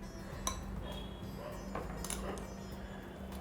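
Masala papad toppings mixed in a bowl with a spoon, faint clinks and taps of utensil against the bowl over a quiet room hum.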